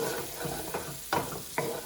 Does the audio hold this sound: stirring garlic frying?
yes